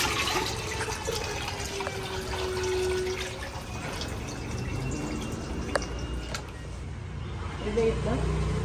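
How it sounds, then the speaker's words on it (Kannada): Cow-dung water is poured into a container to make a liquid plant fertiliser, a soft trickle with drips and splashes against a faint background of voice. "ಇವಾಗ ಇದಕ್ಕೆ ಸಗಣಿ ನೀರನ್ನು ಸೇರಿಸೋಣ."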